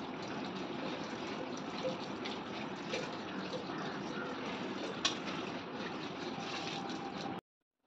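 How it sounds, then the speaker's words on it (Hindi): Drinking water running steadily from a can or tap into a container in a home, a continuous close gush with small clinks, lasting several seconds before stopping abruptly. "यहाँ मैं अपने लिए पीने वाला पानी भर रही थी"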